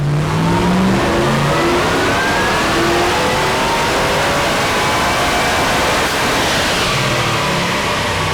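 A tuned car engine revs hard on a dyno up to peak power, a loud continuous roar whose pitch climbs steadily across the pull, with no talking over it.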